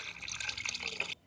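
A small amount of floor cleaner mixture trickles into half a bucket of water, making a soft splashing pour that stops abruptly near the end.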